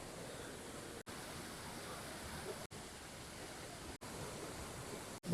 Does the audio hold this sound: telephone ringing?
no